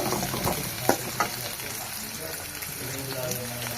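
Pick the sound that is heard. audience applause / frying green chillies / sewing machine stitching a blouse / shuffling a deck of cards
frying green chillies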